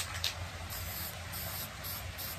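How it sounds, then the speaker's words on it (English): A spray paint can hisses onto a fishing lure in a steady, close, continuous spray with slight pulsing, heard alone without talk. "Oh, this spray paint."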